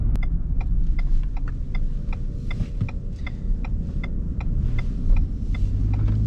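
Inside a 2021 Ford F-150 XLT Hybrid pickup truck on the move, a low, steady road and engine rumble is heard, with a regular ticking like a turn signal running through it.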